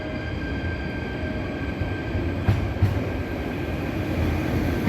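Electric trains moving through a station in the Netherlands, a steady rumbling roll with a couple of soft clacks, heard close and continuous without talk.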